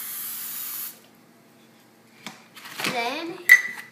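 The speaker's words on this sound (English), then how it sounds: "you're going to grease it with the cooking spray" Cooking spray hisses onto a square 8-inch baking pan in a short, close burst at the start, followed by quiet and then a voice talking.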